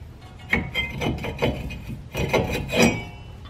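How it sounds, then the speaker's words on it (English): Metal scrapes and rubs in a series of short grinding pulls and knocks as a brake rotor is worked loose by hand from the wheel hub of a 2007 Cadillac Escalade, close up. "Now just pull the rotor off."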